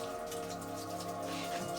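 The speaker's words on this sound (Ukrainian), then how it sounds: "Від кожної цього роду кущик лиємо воду" Water pours steadily from a container onto grapevine cuttings rooting in sand inside a box, a continuous close splashing trickle with no voices.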